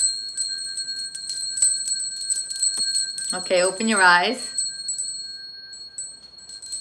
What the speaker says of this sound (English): Did you guess a little chime? Yes, it's a little chime.